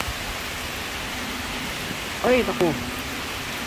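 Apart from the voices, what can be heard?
heavy rain during Typhoon Paeng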